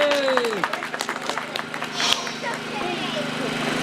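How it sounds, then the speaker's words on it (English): An audience claps at a kitchen fire demonstration in a burst of scattered, nearby clapping that swells and then fades, while people talk over it and a brief whine drops away at the start. "everyone give him a clap"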